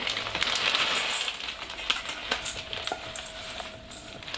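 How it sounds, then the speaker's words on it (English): Fried noodles tipped into a bowl of melted chocolate for Easter nests, giving a soft, close crackly rustle with a few light taps, quiet and without talk. "we're now going to add the fried noodles to the bowl"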